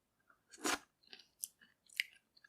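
Close, crisp chewing of mangosteen fruit at home, a loud burst of bites followed by a few softer, spaced mouth sounds, with no talk.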